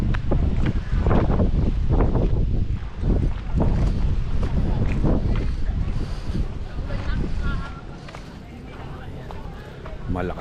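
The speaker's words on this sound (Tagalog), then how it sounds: "Malakas kasi ang hangin." Strong gusty wind buffets the microphone at a hillside campsite in Nagcarlan, Laguna, with loud rumbling bursts that ease toward the end while people talk.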